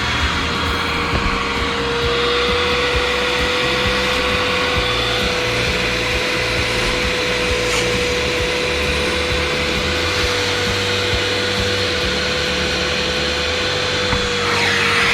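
A vacuum cleaner sucking dirt out of the seats of a cheap used truck, a loud, steady droning whine with a constant motor tone that runs unbroken throughout, close up and alone.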